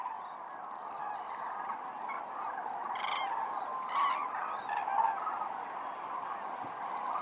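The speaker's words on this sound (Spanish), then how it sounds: "decenas de miles de grullas, como los gansos, se esconden en el agua durante las horas de oscuridad" A large flock of common cranes calls from the water on an Iberian winter night, a dense continuous chorus of overlapping honking and trumpeting cries at moderate distance, swelling slightly in places.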